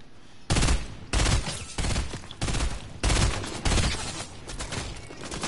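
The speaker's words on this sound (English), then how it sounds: "I hear gunshots" Video game gunshots crack out in a regular series of about eight loud bursts, each a sharp blast with a short ringing tail, spaced roughly half a second apart.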